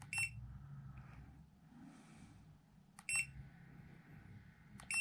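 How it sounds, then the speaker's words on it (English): High electronic beeps from a handheld Creality CR-Scan Ferret 3D scanner sound in short bursts, a cluster at the start and more a few seconds later, over a low background hum. "Sorry for all the beeping."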